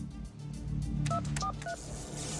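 Telephone keypad tones beep in a phone booth, three short dialing beeps in quick succession, over a busy background of music and noise.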